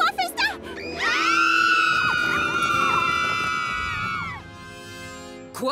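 Cartoon ponies letting out a long, loud, sustained scream of terror held for several seconds, with brief voices before and after.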